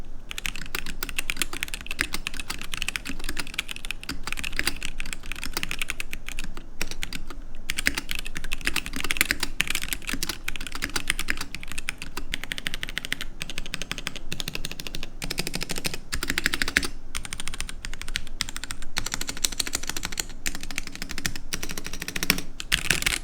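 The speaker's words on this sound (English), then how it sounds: "this is what the keyboard actually sounded like in its stock configuration" Fast, continuous typing on a stock ikki 68 Aurora custom mechanical keyboard, a steady clatter of key presses with occasional louder strokes, close up and with no talking.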